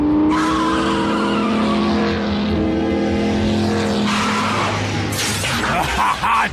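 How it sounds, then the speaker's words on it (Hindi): An animated car from the Transformers Prime cartoon roars in with a loud, sustained engine drone and a sharp tire screech near the end, with no talking over it. "मैं इस इंजन की आवाज को अच्छी तरह पहचानता हूं।"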